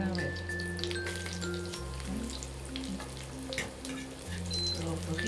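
Garlic sizzles in hot oil for a dish of cod in orange sauce, a steady crackling fry heard up close over a low constant hum.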